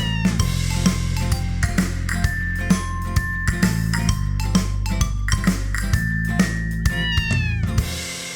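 Repeated cartoonish cat meows in a Hindi nursery rhyme about three little kittens, sounding about a dozen times in a steady rhythm over bright music with light jingling, loud and close throughout.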